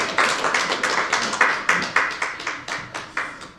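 A church congregation claps in a rhythmic, even beat, sharp regular claps about every quarter second, fairly close and without talk.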